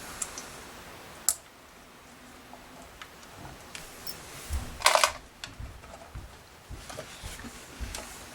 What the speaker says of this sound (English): I need to loosen up the switch